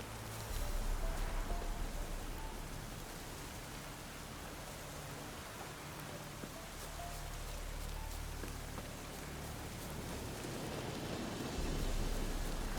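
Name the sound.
rain falling at night in the video game The Witcher 3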